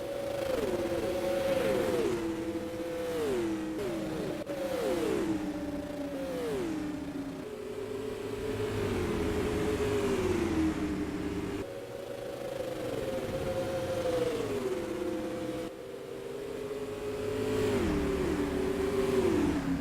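Non-wing supermodified race cars scream past on an oval track, engines rising and falling in repeated loud revving sweeps as the pack passes close by, with no voices over them.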